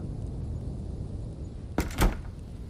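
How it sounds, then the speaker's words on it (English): A chamber door closes and seals, a sharp thunk followed by a second heavier thud a moment later, fairly close, against a quiet background hiss. "The door seals"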